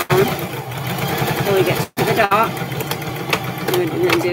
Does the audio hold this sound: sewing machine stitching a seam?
yes